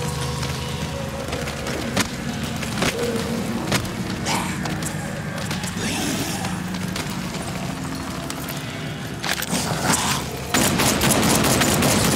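Gunfire rattles through a Batman: Arkham Knight scene as a sustained barrage of rapid shots and thumps. It is loud and dense and keeps going without a break, then grows heavier toward the end.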